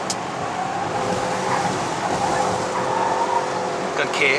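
A Honda Civic FB 2.0S engine pulling uphill on the Genting climb in Malaysia, a steady droning engine note with road and cabin noise, heard continuously from inside the car.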